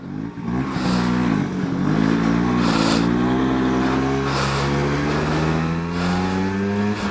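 A 1979 Vespa P200E scooter's 200cc two-stroke engine runs loud and close, its buzzy note rising and falling slightly with throttle, steady and continuous for several seconds.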